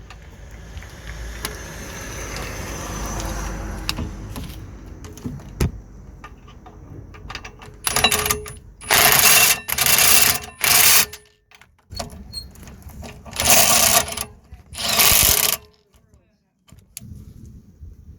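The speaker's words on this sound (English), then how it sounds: "just gonna tighten the bolts now" Rear brake bolts on a Vauxhall Astra being tightened, with clicking and metallic ratchet sounds early on, then several loud bursts of whirring power-tool noise in short spurts, close by.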